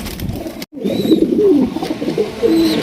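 Pigeons coo steadily and close by at a wholesale pigeon seller's loft, a male calling after a female, low rolling coos overlapping with a brief pause in between.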